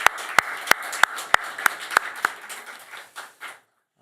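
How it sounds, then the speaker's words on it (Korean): Church congregation claps for the choir after its hymn: a few loud, separate claps on a roughly steady beat over scattered softer clapping, fading out near the end and ending in silence. "또 찬양대에게는 또 격려의 마음 담아서 크게 박수 한번 하겠습니다."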